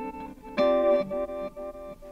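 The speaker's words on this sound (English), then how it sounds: "so that's a reverse delay plus with the reverb on." A sustained guitar chord through a reverse delay and reverb pedal swells in and rings out, its sound blooming backward then trailing off into a wide, washy reverb tail, with no one talking.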